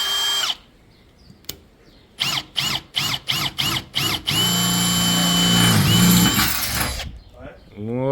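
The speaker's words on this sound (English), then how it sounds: "So now we've got James drilling the first hole in the fender." A power drill bores a hole into a VW Amarok fender during a safari snorkel installation, with a string of short bursts followed by one long sustained run, close and loud, and voices around it.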